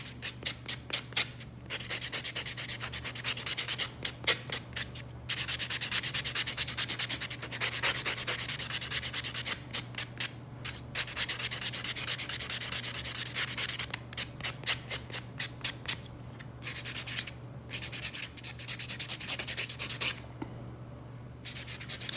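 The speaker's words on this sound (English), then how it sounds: "so let's buff the nail out really good. Remove all the shine." Rapid, rhythmic scratchy rubbing of a nail buffer worked back and forth by hand on a fingernail to remove shine before acrylic, close up, in long strokes with brief pauses, over a low steady hum.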